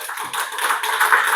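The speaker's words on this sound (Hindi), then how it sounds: "कृष्णा नंदन राव सर के लिए जोरदार ताली" A crowd claps loudly and steadily in an indoor seminar hall, dense, fast applause that holds for a moment without any voices over it.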